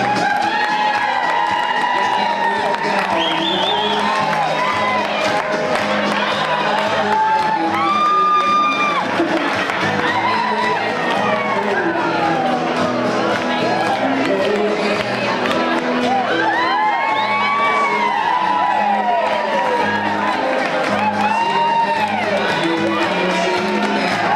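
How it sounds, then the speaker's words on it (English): A crowd at a live show roars with sustained applause, cheering, whoops and shouts for a full stretch, dense and loud throughout with excited voices rising above the clapping. "let's give another big round of applause for the Thunder from Down Under"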